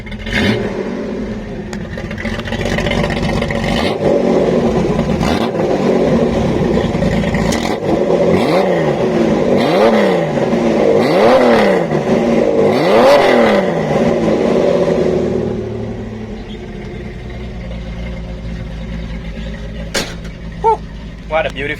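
A 1973 Datsun 240Z Series 2 on a test drive, its engine revving hard through repeated rising and falling sweeps, loud and close, before easing to a quieter cruise with a few faint clicks at the end.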